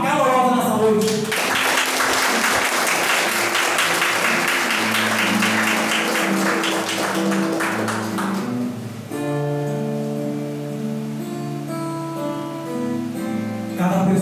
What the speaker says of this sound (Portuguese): é para ele que uma salva de palmas calorosa nessa noite.